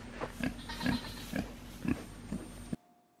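Pigs grunting and oinking close by at a farm where they are being given hay, about half a dozen short snorty grunts in an uneven rhythm, quiet overall, ending in near silence.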